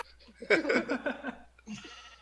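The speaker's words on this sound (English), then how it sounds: "why have you got a sheep in your boat?" Sheep bleating in the Minecraft video game, a few bleats in close succession, fairly loud and near, with no talking over them.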